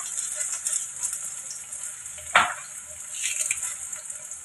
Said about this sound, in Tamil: சின்ன வெங்காயம், உளுத்தம்பருப்பு, சின்ன வெங்காயம், பூண்டு எல்லாமே நல்லா வதங்கிடுச்சு